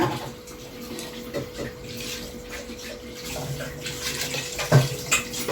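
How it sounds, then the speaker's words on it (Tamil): Water runs and splashes into a cooking pot, a steady trickling pour with occasional sharper splashes and light clinks toward the end. "அளவு தண்ணி ஊற்றிக்கலாங்க"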